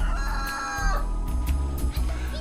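A cockerel crows loudly and close by, one drawn-out call with a strained, rising and falling shape, followed by a few short clucks.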